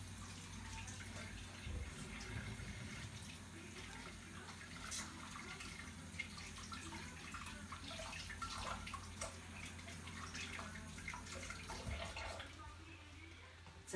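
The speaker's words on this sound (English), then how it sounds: "Giving my hands a quick wash here." Tap water runs into a kitchen sink while hands are washed underneath it, a steady splashing stream with small clatters and shifts in the flow, heard up close at moderate loudness.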